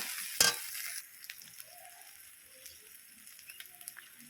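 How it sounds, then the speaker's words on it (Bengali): Spices with turmeric powder sauté quietly in a pan for a Rupsha fish curry, opening with a loud scraping stir followed by a soft, low sizzle and faint occasional clicks of the spoon. "এই হলুদের গুঁড়ো এবার দিয়ে দিলাম, দিয়ে খুব সুন্দর করে নেড়ে চেড়ে কিছুক্ষণ কষিয়ে নেব"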